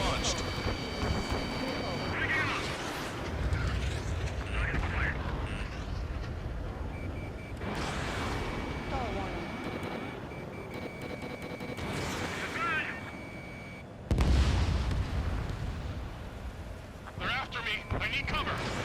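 Missile launches and explosions from the Ace Combat 7 combat flight game, with bursts of blasts and whooshing roar rising and falling across the stretch, a heavy hit near the end, under steady radio chatter and talk.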